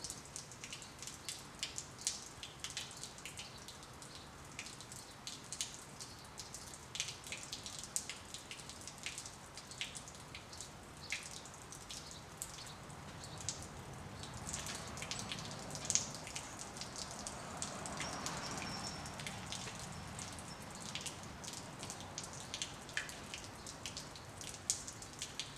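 Water runs steadily during flushing and refilling, a continuous soft hiss with faint dripping and splashing textures that swells slightly midway, with no talking.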